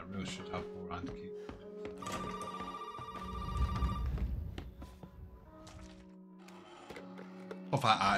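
A telephone rings in Resident Evil 7 inside an old house, with repeated ringing tones over a murky, rumbling game soundscape and a louder burst near the end.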